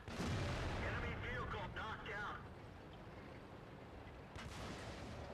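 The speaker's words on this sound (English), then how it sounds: "Damn you, artillery." Artillery shells land in a World of Tanks match, heavy booming blasts with rumbling, crackling decay clustered in the first two seconds, then a lower steady battle din and one more burst near the end; talk overlaps.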